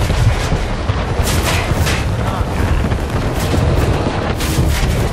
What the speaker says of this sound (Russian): Давай, пушки наяриваем.